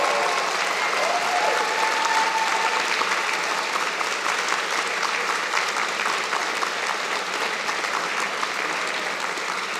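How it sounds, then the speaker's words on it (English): Loud, sustained applause from family, friends and audience honoring graduates at a spring convocation ceremony, a dense continuous roar of clapping filling a large hall for about ten seconds. "Graduates, a round of applause."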